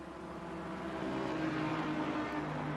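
A GT3 race car engine in a sim racing game at Watkins Glen gives a steady, low, faint background drone that hums on without a break.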